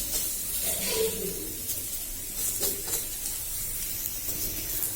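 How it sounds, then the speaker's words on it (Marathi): Chopped onion roasting on a hot tava griddle gives a steady, faint hiss and sizzle, with no talk over it. "आपण आपला जो कांदा कट करून घेतलेला आहे आपण तो छान भाजून घेणार आहोत तव्यावर"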